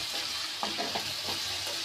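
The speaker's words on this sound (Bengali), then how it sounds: "এখন তেলের ভিতরে রসুনটা পেঁয়াজ আর শুটকিটা একটু হালকা করে ভেজে নেব" Garlic, onion and dried fish fry in hot oil in a wok with a steady close sizzle, broken by a few stirring scrapes.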